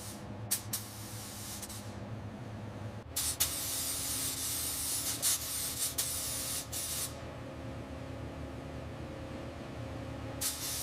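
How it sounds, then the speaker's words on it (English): A spray gun coats a 1905 Panhard et Levassor 50HP Type Q car in navy blue-black paint, hissing in short bursts and then one long pass of several seconds, fairly quiet in a still workshop. "This is the 1905 Panhard Levassor, getting a fresh coat of its original color"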